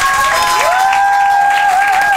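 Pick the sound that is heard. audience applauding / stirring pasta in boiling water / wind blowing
audience applauding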